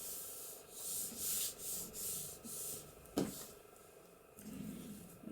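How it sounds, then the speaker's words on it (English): Paper on a handmade junk journal is burnished with steady back-and-forth rubbing strokes, soft and close, with one sharper tap partway through and no talking. "I'm burnishing in the wrong direction, it's going across this way."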